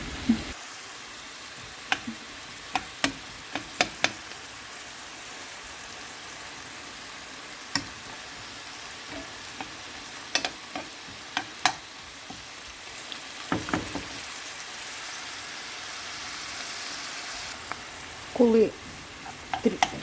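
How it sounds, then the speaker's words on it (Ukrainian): Continuous low sizzle of vegetables, including carrot, frying together in one pan for borscht, punctuated by scattered clicks and scrapes of stirring, close by. "Все це я смажу в одній сковорідці."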